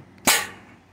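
An air cannon with a 1-inch sprinkler valve fires a bottle projectile, producing a single sharp, loud pneumatic bang followed by a quick fading hiss.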